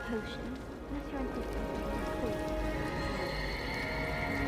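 A horse neighs and whinnies in the video game Hogwarts Legacy, mixed with hoof clip-clops and a soft rain-like background under ongoing spoken dialogue.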